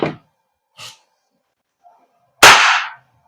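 Shots from a WE Hicapa 5.1 T-Rex airsoft gas blowback pistol: one sharp, loud crack with a short hiss tail near the end, preceded by two faint brief clicks, otherwise quiet.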